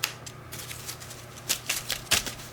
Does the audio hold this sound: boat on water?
no